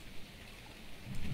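Rain in ARK: Survival Evolved, a soft, steady wash of falling drops with a faint low rumble, continuous and moderately quiet with no speech.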